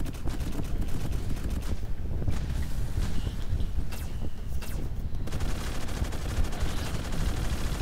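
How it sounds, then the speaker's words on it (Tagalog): A Gatling gun in a video game fires in a dense, continuous roar of rapid shots, loud and close throughout, with the barrage briefly thinning midway before resuming at full intensity. "So gagamitin ko to si Gatling Gun. Gatling Gun tara dito."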